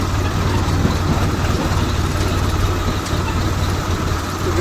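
A tractor engine idles and runs steadily at close range, a continuous low diesel rumble with no voices over it.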